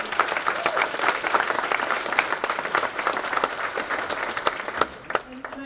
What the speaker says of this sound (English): round of applause to all of you